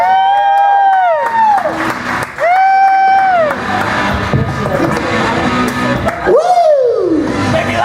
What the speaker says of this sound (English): Put your hands together for Nick Trammell.